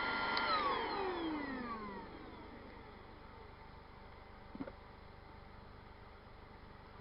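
A vacuum cleaner with a fabricated lid fitted runs steadily, its motor whine falling in pitch at first and then settling into a constant, fairly quiet hum, with one brief click partway through.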